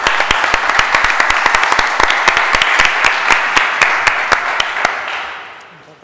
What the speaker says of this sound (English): And big applause for you.